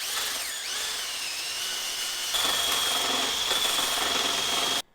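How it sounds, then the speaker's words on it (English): A power drill whines steadily with a high, grinding buzz from a spinning wire wheel stripping paint from a Nissan 350Z drift car, growing louder midway before cutting off abruptly. "come in with a wire wheel, on a drill, on a grinder, anything like that"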